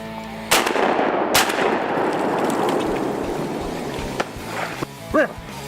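A shotgun fires while duck hunting with heavy metal shot: two sharp, loud blasts a second apart, each followed by a long rolling echo, with faint rustling and a brief call near the end.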